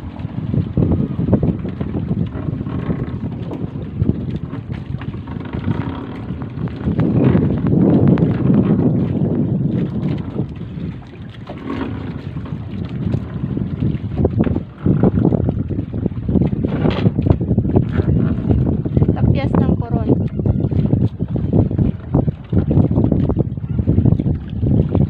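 A small fishing bangka travels over open water near Coron, its engine and hull noise a steady, loud rumble mixed with gusting wind buffeting the microphone throughout, with no pauses.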